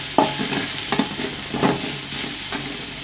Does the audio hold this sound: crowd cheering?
no